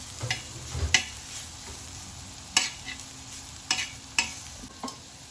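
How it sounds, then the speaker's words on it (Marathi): A spoon scrapes and stirs a spiced mixture with a little salt in a pan, several sharp separate clinks and scrapes over a low sizzle, close and without talk. "हे थोडंसं मीठ ऍड करते हे मिक्स करून घेतले"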